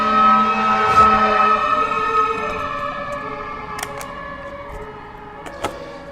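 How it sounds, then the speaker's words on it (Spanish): A wailing siren with sustained tones drifts over steady background noise, gradually fading, with a couple of brief sharp clicks near the end. "cuando suena una sirena"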